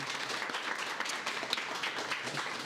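Audience applause at a farewell and certificate ceremony for a mobile repair training batch, a steady dense wash of many hands clapping at moderate level throughout, with no talk over it.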